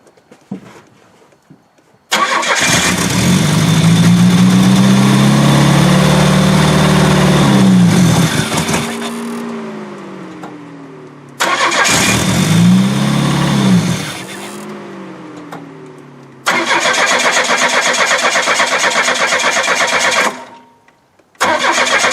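Old Buick engine cold-starting after about 15 years without running: three loud cranking-and-catch bursts, the first roaring for several seconds with wavering revs before dying, a shorter second attempt, then a steady rough run close up.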